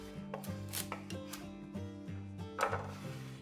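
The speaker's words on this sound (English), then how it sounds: "Chop up the stems, as we're gonna make them in about 1-inch pieces" A knife chops chard stems into inch-long pieces on a board, a close run of regular thuds over a faint background hum.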